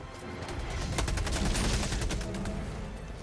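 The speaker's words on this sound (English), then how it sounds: "I'm not going to move into the path of these machine gun turrets" Sustained automatic gunfire from machine gun turrets in the Helldivers 2 video game, a dense rapid burst of shots that swells near the middle and carries on loud throughout, with no talk over it.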